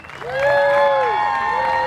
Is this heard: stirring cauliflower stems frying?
no